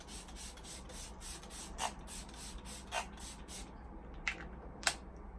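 Smashbox Primer Water setting spray being pumped in a quick run of short bursty sprays, then a few spaced single spritzes, close and soft.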